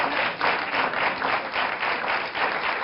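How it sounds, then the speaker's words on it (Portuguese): A studio audience applauds a guest on a Portuguese television health talk show, steady dense clapping with a gentle pulsing swell, loud and continuous without voices. "Uma salva de palmas para a Catarina"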